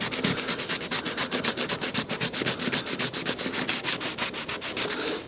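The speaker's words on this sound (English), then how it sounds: "So we'll give it a little sand, just to take the high points out." Rapid, rhythmic scratching of sandpaper rubbed back and forth over a dented body panel of a 2016 Fiat 500, about four strokes a second, close up and steady.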